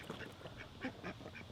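Ducks quack around a farmstead kept with chickens, a string of soft, nasal quacks repeating irregularly at a moderate distance against low outdoor noise.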